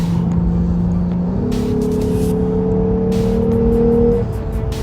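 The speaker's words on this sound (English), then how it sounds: "All you hear is the engine, full throttle acceleration." A Lexus IS 350 F Sport engine revs hard under full throttle, its pitch climbing steadily, briefly dropping at a gear change, then rising again, loud and close.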